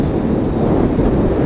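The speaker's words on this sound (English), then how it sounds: "Oh, it's getting windy now." Strong wind buffets the microphone of an electric bike ride near the beach, a loud continuous low roar with no other sounds.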